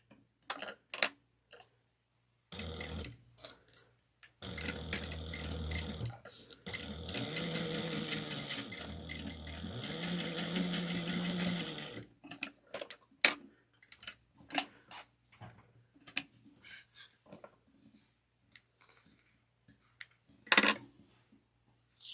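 Bursts of sewing machine stitching, top stitching a wristlet, come in several close runs separated by pauses, followed by scattered clicks and handling noises toward the end.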